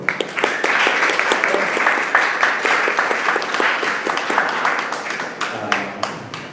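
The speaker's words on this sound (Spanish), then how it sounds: "Un aplauso" A crowd at a monthly gaming meetup gives a speaker a steady round of applause that holds strongly for several seconds, then fades as a voice begins.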